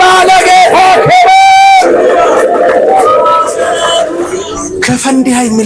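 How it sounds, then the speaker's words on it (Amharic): A church congregation erupts in loud, sustained ululation mixed with cheering and applause, a dense crowd roar that fills the whole stretch with shrill trilling voices rising above the clapping. "ታላቅ እልልታና ጭብጨባ ለጌታ ክብር።"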